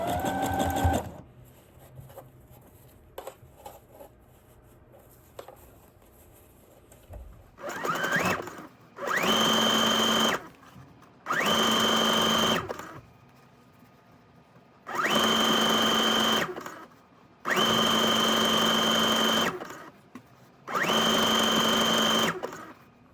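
A sewing machine stitches over a seam on underwear fabric in about six loud, even bursts of rapid mechanical whirring, separated by short pauses of quiet handling.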